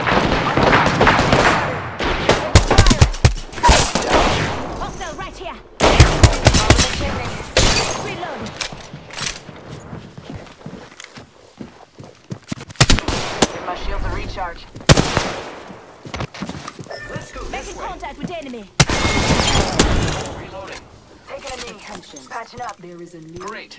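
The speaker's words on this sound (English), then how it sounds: "Opening fire on the enemy." Gunfire in a Longbow-equipped shooter video game: bursts of rapid shots and sharp cracks come in several loud clusters, separated by quieter stretches with other game sounds.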